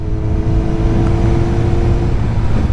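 Kawasaki ZX7R sport motorcycle engine running steadily on a ride along a winding highway, a loud continuous low drone with slight rising revs and wind noise, no voices.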